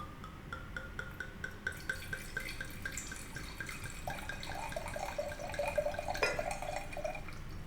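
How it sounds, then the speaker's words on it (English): Milos Stagnum 2013 red wine is poured into a glass in a steady close trickle, a rhythmic gurgle from the bottle neck rising in pitch as the glass fills, with no talk. "And then I am going to pour it on screen here."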